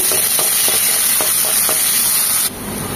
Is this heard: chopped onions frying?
yes